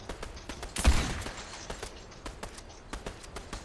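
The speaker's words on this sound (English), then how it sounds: "there are gunshots down here too somewhere" Rapid, sharp cracks of video game gunfire burst in irregular clusters at moderate distance, with one louder blast near the start.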